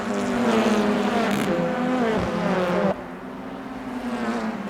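Honda Civic touring car engine in the rFactor 2 racing game, a loud buzzing high-revving drone that rises in pitch through gears, then drops abruptly to a quieter tone before building again, with no talk.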